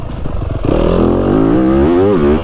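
A 2025 Yamaha YZ250FX dirt bike engine idles close and loud, then revs up with a rising, wavering pitch that holds briefly before easing off.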